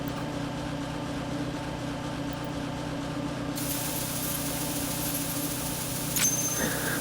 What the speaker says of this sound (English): Position yourself by the conveyor belt and equip your coolant spray